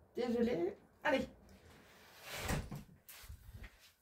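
An indoor door is pushed shut with a solid thud about halfway through, followed by a lighter knock, after a voice speaks at the start.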